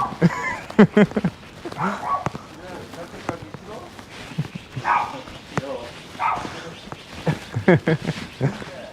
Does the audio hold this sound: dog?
yes